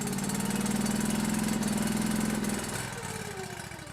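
A small Honda engine on a Dyna FB10 firewood bundler runs close by with a fast, steady putter, its pitch dropping slightly as it eases off near the end.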